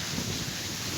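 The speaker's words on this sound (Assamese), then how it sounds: "ইমান বতাহ মাৰি আছে" Strong wind blows in a steady, full rushing roar buffeting the microphone, with no voices.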